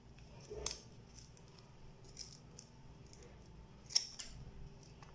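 Scissors trim excess material from a handmade thong-style ankle sandal, giving a few quiet, crisp snips with soft handling rustle between them.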